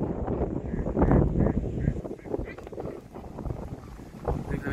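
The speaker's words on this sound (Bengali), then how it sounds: "নিজেরাই নৌকা ঠেলে আসছে।" A small boat is pushed through a marshy wetland in stormy wind by women hauling cut grass for livestock. Heavy wind buffets the microphone and water splashes and churns nearby, with a voice talking over it.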